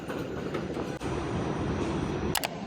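Subway train ride heard from inside the car, a steady loud rumble and roar of the moving train with brief clicks near the end and no talking.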